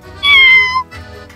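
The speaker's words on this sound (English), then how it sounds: "Let me check this little kitty cat's eyes now." A cat, handled during a check of her eyes, gives one loud, close meow that rises and falls, followed by fainter sounds.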